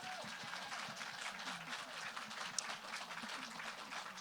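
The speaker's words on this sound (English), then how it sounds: "I just want everybody to give a round of applause." An audience at a book event celebrating Indigenous horror gives a panel a sustained round of applause, steady and moderately distant, with a few voices underneath.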